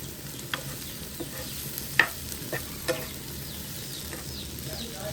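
Chicken fries in a small amount of hot oil with a soft, steady sizzle, punctuated by faint scraping stirs and a few small pops.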